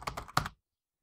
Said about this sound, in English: I could type that on the keyboard.